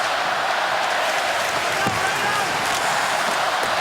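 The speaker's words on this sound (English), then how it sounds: "And the crowd urging them on to get the lead here." Hockey arena crowd at an NHL game between the Edmonton Oilers and Detroit Red Wings, a loud, continuous roar of cheering with faint thuds beneath it.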